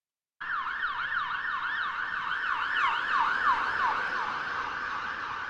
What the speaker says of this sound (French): un changement de tonalité dans le son de l'ambulance lorsqu'elle passe devant vous